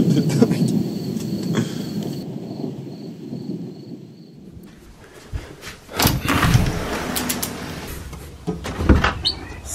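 Thunderstorm with heavy rain: steady rainfall fills the opening seconds, followed by a sharp nearby thunder crack and rumbling, then further loud bursts of thunder over continuing rain.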